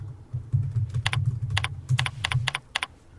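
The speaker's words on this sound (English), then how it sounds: "This takes you to our knowledge database where you can key in folder search" Keystrokes on a computer keyboard tap out a search in quick, uneven clusters, crisp and close over a low steady hum, with no voices.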